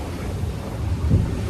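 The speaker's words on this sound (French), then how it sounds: "il y a 35 nœuds de vent" A strong 35-knot wind blows over the MACIF racing sailboat at sea during the Vendée Globe. Low, gusty buffeting and rumbling fill a brief moment, close to the microphone, with no speech.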